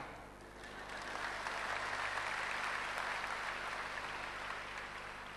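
A church congregation claps during an Easter sermon, the sound swelling after a quiet start into a soft, sustained patter of hands that stays fairly distant and even.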